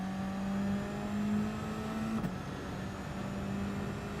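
A race car engine in a racing video game drones steadily as it accelerates up through the gears, a smooth sustained hum with a brief blip at a gear change, fairly quiet and with no talk.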